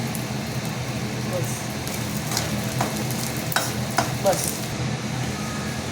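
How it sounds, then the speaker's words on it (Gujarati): Whole edible gum sautés in ghee in a pan. A steady, loud sizzle runs throughout, broken by a few sharp clinks and scrapes of stirring. "ઘીની અંદર આખો ગુંદર નાખી એને સાંતળી લેવું"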